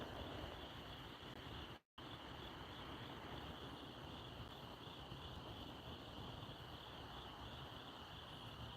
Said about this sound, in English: They hear them crickets